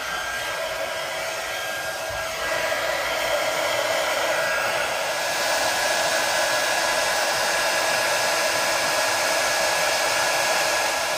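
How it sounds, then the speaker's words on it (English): A heat embossing tool blows hot air over a freshly stamped swirl design, giving a loud, steady, close whooshing roar that runs continuously with no talking. "Okay, now I'm gonna grab my heat tool."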